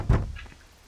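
A door being forced in the medieval game Kingdom Come: Deliverance, one heavy wooden thunk with a short rattling decay, close and loud, with no talk over it.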